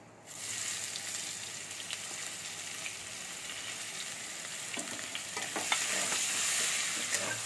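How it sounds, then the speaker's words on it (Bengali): Onions fry in foamy oil left over from frying eggs. A loud, steady sizzle runs throughout from close by, with scraping stirs growing busier toward the end. "পেঁয়াজটা আমি একটু ভেজে নেবো।"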